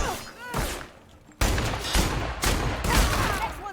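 Gunfire in The Outer Worlds, with a short burst early and then loud, dense volleys of shots from about halfway through, overlapping in quick succession.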